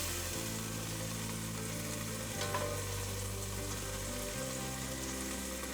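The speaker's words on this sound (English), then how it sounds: "I'm going to scoop it out with my spatula" Seared pork in a pan gives off a dense, steady sizzle with a low hum beneath and one brief scrape as a spatula scoops it out; no talking.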